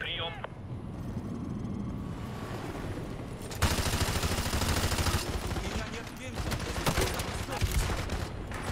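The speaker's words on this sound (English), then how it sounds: "I'm just shoulder firing a 240" Heavy automatic fire from a shoulder-fired M240 machine gun in Call of Duty: Modern Warfare 2 Remastered, sustained dense bursts that grow louder partway through, mixed with battle noise and someone talking over it.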